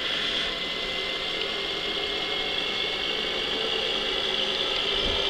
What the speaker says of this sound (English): looks like this tractor's playing up on me as normal